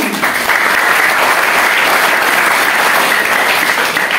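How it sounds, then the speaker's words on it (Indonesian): An audience at a public lecture in an Islamic boarding school claps for students' parents, giving steady, dense applause that continues unbroken throughout. "Tepuk tangan untuk para wali"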